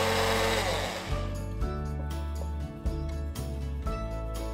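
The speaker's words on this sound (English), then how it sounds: "Cover it up and give it a blend for about 15 to 30 seconds." A blender whirs steadily with dish soap and water inside, a loud continuous motor drone with small dips in pitch, running alone for several seconds.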